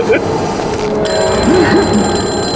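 A telephone rings with repeated high electronic bell tones in a Hindi horror drama scene, while people talk loudly over the ringing.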